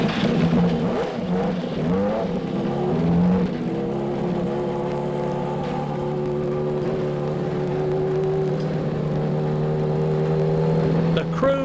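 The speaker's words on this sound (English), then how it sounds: "We'll start it up, warm it up." An IndyCar race car engine starts with a rough burst and then settles into a loud, steady, droning idle as it warms up in the pit area, with possible voices faint underneath.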